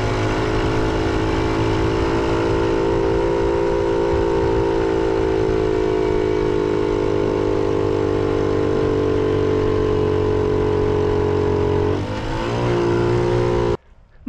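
A small 50cc motorcycle engine labours steadily in first gear up mountain switchbacks in Morocco, a loud, constant droning buzz that holds its pitch for a long stretch before briefly dipping and rising again near the end.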